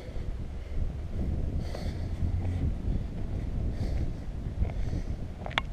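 Wind gusts outdoors along a city street, rumbling steadily and low against the microphone at moderate loudness, with faint scattered background noises.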